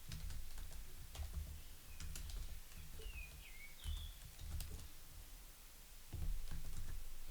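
Computer keyboard typing, light irregular keystroke clusters close by as account details are entered, with faint birdsong in the background.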